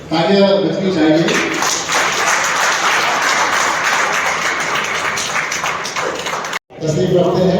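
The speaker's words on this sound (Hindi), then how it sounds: "तालियां बजनी चाहिए" An audience at an annual foundation gathering applauds: steady, dense clapping sustained for several seconds, loud and close, with a voice speaking before and after and a brief cut near the end.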